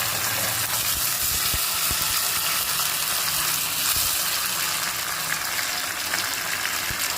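Curry leaves and coriander crackle and hiss in hot coconut oil, a dense, constant sizzle with a few sharper pops and spits, close and unbroken throughout.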